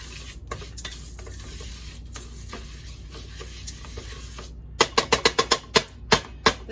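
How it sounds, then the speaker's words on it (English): Rice grains coated in oil are stirred in a pan, first a soft continuous scraping and sizzle, then a run of sharp, rhythmic utensil scrapes and taps against the pan, close and distinct. "I'm just going to stir this up. Get all the little grains of rice coated in the oil."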